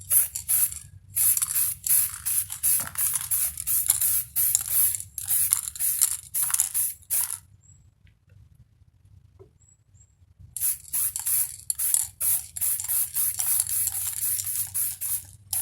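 A spray paint can hisses satin black onto a Honda CB200 motorcycle tank in a run of short bursts, a pause, then more bursts, close and fairly loud.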